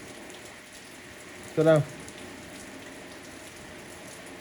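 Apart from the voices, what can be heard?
rain falling outdoors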